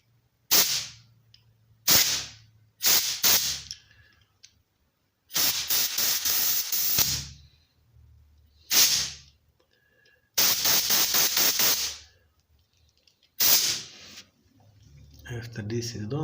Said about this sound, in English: we use compressed air to blast all the dirty off